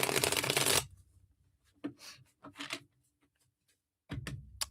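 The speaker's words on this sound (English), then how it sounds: "Let me just shuffle these up and get into your energies." Reading cards shuffled by hand, opening with a dense riffling burst under a second long, followed by scattered soft taps and slides of cards being handled, quiet and close.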